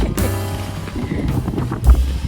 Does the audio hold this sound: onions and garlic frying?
no